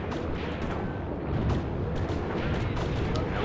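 Rapid gunfire and booming artillery from Graviteam Tactics: Mius Front rattle in dense, overlapping bursts, loud and continuous, with sharp cracks over a heavy rumbling wash.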